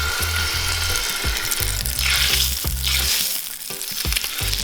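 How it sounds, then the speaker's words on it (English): Salmon fries skin down in a pan with a loud, steady sizzle and crackle. Softer stirring and spattering swell and fade within the sizzle, and no one speaks. "So guys, you can hear that nice sizzle."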